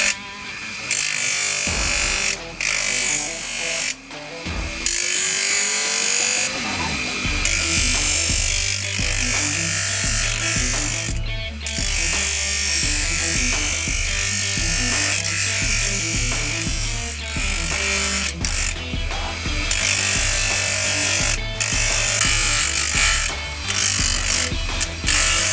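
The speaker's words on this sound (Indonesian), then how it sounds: "ini saya bentuk memakai hamplas kasar yaitu 24 supaya lebih cepat dalam pengerjaan" Coarse 24-grit sandpaper on a power sander shaping a bushcraft knife handle made from an old file, a loud steady whirring grind with shifting pitch, running continuously for the whole stretch.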